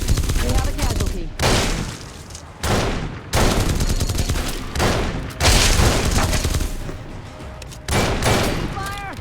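Rapid bursts of gunfire from Fallout New Vegas crack out loud and close in repeated volleys, with short gaps between them and clipped voice callouts mixed in.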